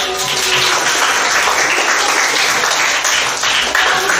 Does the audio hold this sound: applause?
yes